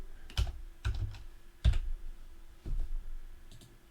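Keys clattering on a computer keyboard while entering a name into an Excel spreadsheet, a handful of distinct close taps and clicks spaced apart in a quiet room, with no talking.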